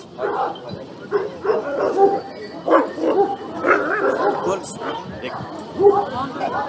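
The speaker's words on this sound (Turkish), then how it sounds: "Maşallah güzel köpek." An Anatolian Shepherd dog yips and barks in short bursts close by, mixed with people talking and calling in Turkish over the top.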